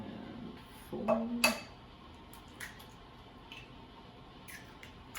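A fork clinks and scrapes against a bowl while eggs are being scrambled for breakfast tacos, with a few sharp metallic taps up front, then softer scattered ticks and light clicks in a quiet room.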